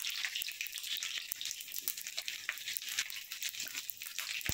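Potatoes and cauliflower fry together in oil in a wok, giving a faint, steady hiss of sizzling broken by light ticks and pops.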